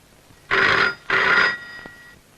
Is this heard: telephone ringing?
yes